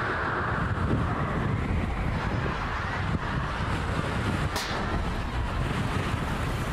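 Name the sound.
strong wind blowing into the microphone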